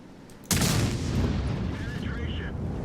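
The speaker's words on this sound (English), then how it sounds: "That was a pretty hefty shot there." A tank cannon firing in a tank combat video game, one sudden loud, heavy blast followed by a long rumbling decay with faint mechanical whines after.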